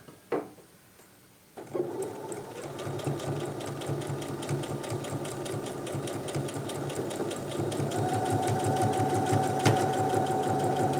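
A home sewing machine runs steadily, stitching fabric for a pair of pants after a brief quiet start; the motor's even whirring hum and rapid needle rhythm continue close by for the whole stretch with no talk.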